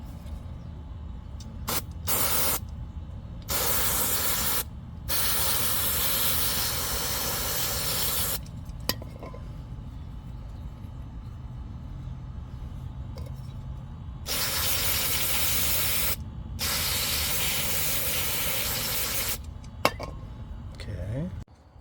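Cleaner sprays in several bursts onto an engine part from a 2014 Lexus RX350: loud, hissing blasts a second or two long, separated by quieter gaps with faint clinks and low background noise.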